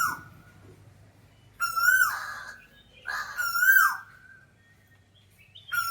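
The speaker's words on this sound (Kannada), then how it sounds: "ಕೋಗಿಲೆ ಆವಾಜ್ ಎಷ್ಟು ಚಂದ ಇದೆ ಕಾಗಿನೂ ಕೂಗಾತೈತೆ" A koel calls from a mango tree with two loud, rising whistled cries a second or so apart, with a crow also calling nearby in an otherwise quiet outdoor setting.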